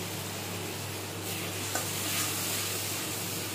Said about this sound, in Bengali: মশলাটা দিয়ে কষিয়ে নেব।